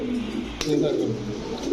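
Pakistani breed pigeons cooing in low rolling calls, with someone talking over them and a brief sharp knock partway through.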